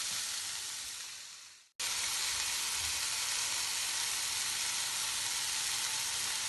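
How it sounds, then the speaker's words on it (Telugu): Onions frying in a pan for a mixed vegetable curry, a loud steady sizzle that fades, cuts out briefly, then resumes at full strength and holds, close and continuous with no talking. "ఆనియన్స్ వేగిపోయినాయండి"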